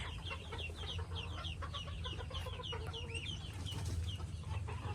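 Chickens cluck and chatter continuously at moderate distance on a farm, with overlapping short calls over a low steady background hum.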